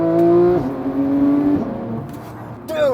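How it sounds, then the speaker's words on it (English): A Porsche GT3 engine and exhaust rise in pitch under a light throttle pull, shifting once, then easing off. The sound is close and fairly loud, with a brief voice at the end. "I kind of have to over this exhaust"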